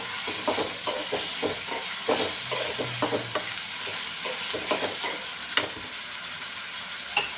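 Chopped tomato frying with browned onions in a pan for palak paneer, a steady sizzle under repeated close scraping and stirring knocks, each stroke sharp and distinct, with no voices.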